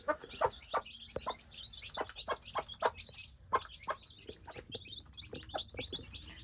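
Hens cluck steadily while chicks peep in high, rapid chirps, a busy overlapping flock in a wire-fenced yard close by with no talking.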